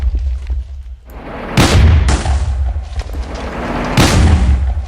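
Weapon blasts from the TF2 Stuff mod in Minecraft: two loud, booming explosions about two seconds apart, each a sharp crack followed by a rumbling low-end tail over a continuous game background.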